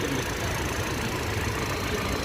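A BMW X3 or X4 engine idles steadily nearby, a continuous even hum with no change in speed.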